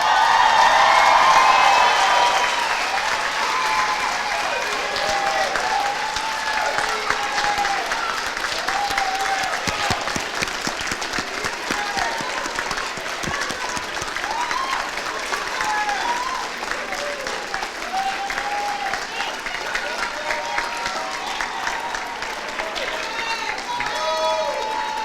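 At a high school equivalency graduation ceremony, a large crowd keeps up sustained applause with cheers and whoops throughout, while voices call out over the clapping.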